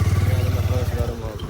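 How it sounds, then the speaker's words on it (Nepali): A motorcycle being parked nearby, its engine idling with a steady low rapid putter that fades slightly at the end, while a voice talks over it. "अङ्कलले बाइक राखिरहेको छ होइन"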